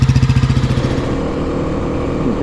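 A 2024 Kawasaki KLX300 single-cylinder dirt bike engine with stock exhaust thumps with a fast, even pulse, then settles into a steady idle; close and fairly loud, no voices.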